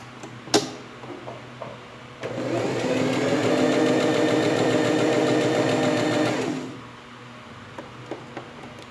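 A sewing machine stitches a ribbon onto a fabric pencil case, a steady close mechanical whir running for about four seconds between quiet handling clicks.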